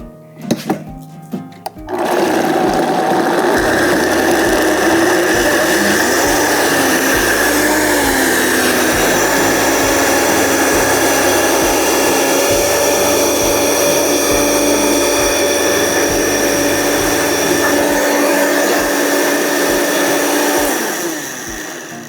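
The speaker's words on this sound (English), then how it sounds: "this goes into the blender, purees" A blender purees stone fruit with a loud, steady motor whine after a short start-up burst, holding constant for about twenty seconds before cutting off.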